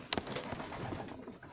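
Adana native diving pigeons, with a bird call and soft cooing at moderate distance over steady outdoor background noise, and a sharp click near the start.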